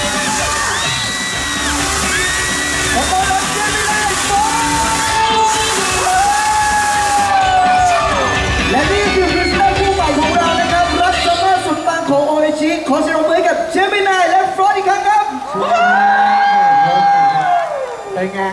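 A large crowd screams and cheers loudly over music at a live fan event for Thai actors Gemini and Fourth, the shrieks rising and falling continuously throughout.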